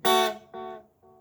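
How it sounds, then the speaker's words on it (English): Short electric guitar phrase with an echo effect, one bright plucked chord ringing out and then repeating twice more, each repeat softer and fading into quiet. "And you can hear that echo working in the background."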